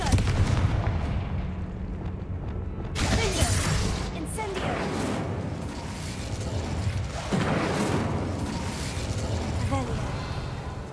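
Confringo blasting curse explosions crack and boom in a fantasy video game, several heavy bursts with echoing rumble, the first around three seconds in and another near seven, under a constant low background din.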